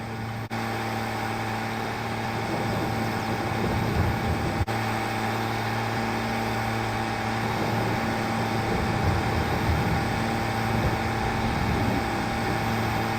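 A tractor engine drones steadily while ploughing a field in Farming Simulator 22, a continuous, fairly loud low hum with an even pitch and no talking.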